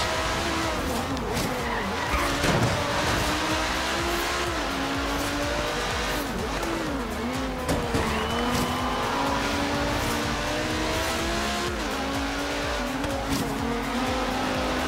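Race car lapping a circuit in Forza Horizon 3, a continuous engine whine rising and falling with the throttle, mixed with repeated tire squeal and skidding, close and loud throughout.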